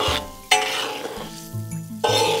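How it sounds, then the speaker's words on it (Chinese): Doubanjiang sauce being stirred in a wok for braised eel, with bursts of loud sizzling and scraping alternating with quieter bubbling and occasional clinks of the utensil. "给它搅动一下"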